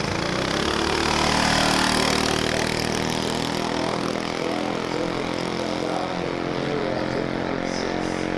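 A drag racing car launches at the strip: a loud, sustained engine roar at full throttle, steady and droning close by, gradually easing slightly toward the end.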